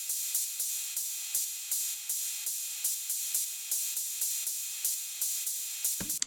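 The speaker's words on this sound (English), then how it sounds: "The last drum we have is a ride cymbal." Ride cymbal in a house-style track, panned around and processed with vocoder, a steady run of bright, evenly spaced hits ringing in a quick swung rhythm for about six seconds before a short cutoff.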